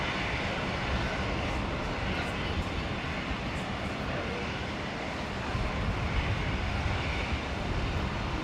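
An airliner landing on runway 19 left at Brisbane Airport makes a continuous broadband engine roar and rumble that stays loud and steady throughout, with no break or fade.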